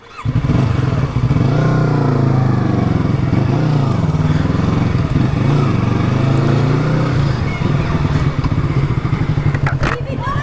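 A motorcycle engine revs steadily at close range, a loud continuous throttle held with slight rises and dips, with traffic clatter around it and people talking over the engine.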